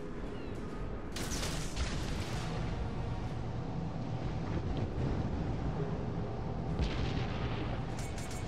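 Naval artillery booms and explosions in World of Warships: Legends, a dense rumbling barrage with sharp blasts around the second and seventh seconds over continuous low battle noise.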